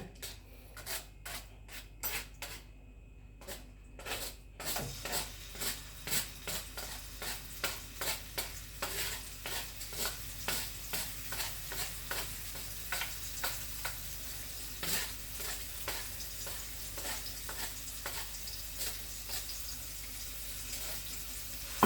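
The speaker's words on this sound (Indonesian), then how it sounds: "sekarang sudah dianggap cukup ya, kita tumis bumbunya" Ground spice paste for krecek krupuk kulit is stirred and sautéed in a pan, a soft sizzle beneath a repeated rhythmic scraping of the spatula that continues steadily throughout, no talk.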